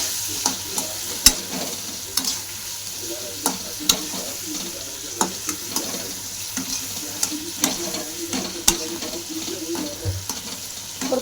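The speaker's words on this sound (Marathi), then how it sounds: "हळद आणि मीठ टाकून घेतलं हे बघा दोन्ही पण टाकलं त्याला मस्त परतून घेतलं" Chicken sautéing in a pan with turmeric and salt, with a steady sizzle broken by sharp clacks of stirring and scraping, close and moderately loud, with no voices.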